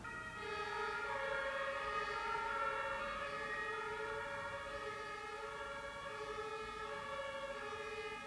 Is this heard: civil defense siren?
yes